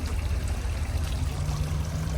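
Steady rushing trickle of a backyard water fountain at a garden nursery, running without a motor, continuous and fairly close with no voices.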